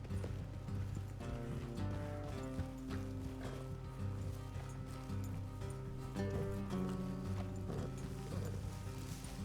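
Horse hooves clop along in the Red Dead Redemption 2 video game, a steady rhythmic beat sitting under loud, continuous game music with no voices.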